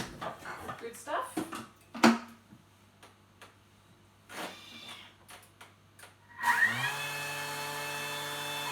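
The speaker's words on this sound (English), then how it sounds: "We're going to just spin off the blades now to get all that extra" A food mixer's blades spin free to throw off leftover keto banana cake batter, first under scattered talk and knocks, then as a steady close motor whir that starts near the end.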